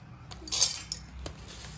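Roasted split chickpeas (dalia) tumble into a steel mixer jar with a short burst of light rattling clinks, followed by a couple of isolated taps, close and moderately quiet, with no talking.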